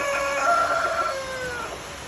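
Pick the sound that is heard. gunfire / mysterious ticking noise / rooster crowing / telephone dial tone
rooster crowing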